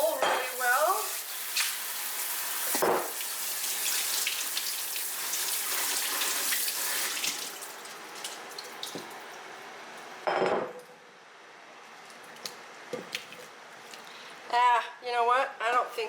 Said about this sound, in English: Going to rinse out the bowl really well.